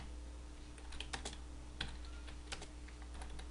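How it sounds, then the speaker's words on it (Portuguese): Typing on a computer keyboard during a coding lesson: a soft scattered flurry of key clicks in irregular bursts over a steady low hum, faint and close with no voice. "vou digitar aqui"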